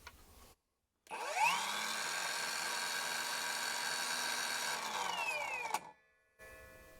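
A Parkside Performance 40V cordless circular saw (PPHKSA 40-LI A1) winds up on its first speed setting and runs steadily with a high whine for about four seconds before spinning down, alone without talk.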